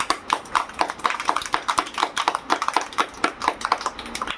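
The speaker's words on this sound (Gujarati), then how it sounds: "તો પેલા 5 આંગળીથી તાળી પાડો." Rapid clapping with five fingers in a rain-clap game, a fast dense patter of sharp taps close by, continuous and even like heavy rain.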